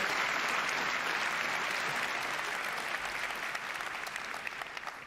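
Steady audience applause at a Ubisoft E3 presentation, a dense wash of many hands clapping, fairly loud at first and tapering slightly toward the end.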